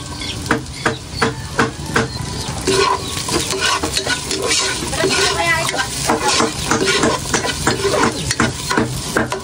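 Garlic, ginger and onions sauté loudly in a pan for chicken tinola, cooked outdoors by a fish pond. Rhythmic spatula scrapes and taps sound over a constant close sizzle.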